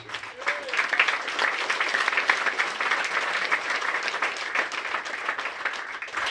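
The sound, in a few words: applause for the women's program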